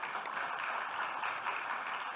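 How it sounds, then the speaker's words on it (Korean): Faint, steady applause from the audience at a Korean accountants' Accounting Day ceremony, a dense wash of clapping heard from a distance with no voices. "김병욱 의원님께 큰 박수 한번 부탁드리겠습니다"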